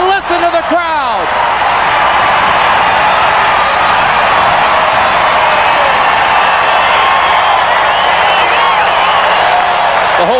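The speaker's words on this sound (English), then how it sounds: "The whole stadium's rocking." Stadium crowd at a 1984 USFL football game between the Houston Gamblers and Denver Gold roaring after a Denver touchdown, a loud continuous cheering wall with a broadcast announcer talking over it at the start.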